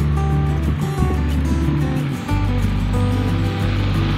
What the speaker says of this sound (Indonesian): Inilah dia suasana sekitar Pantai Jagu